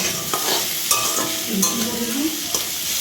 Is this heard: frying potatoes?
yes